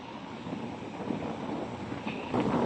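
Seaside wind buffets the microphone in a continuous rough rumble, growing louder toward the end, with faint background sounds beneath.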